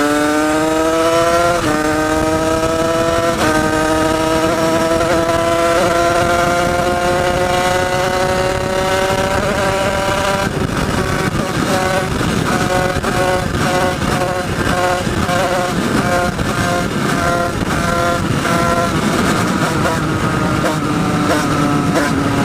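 A small KRM two-stroke engine is revved continuously while warming up, a loud buzzing whine that climbs in pitch, steadies, then breaks into rapid uneven revving, close and unbroken throughout.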